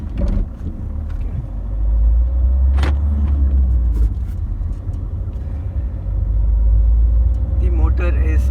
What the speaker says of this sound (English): Right foot on the accelerator, left foot on the clutch, and let me release it.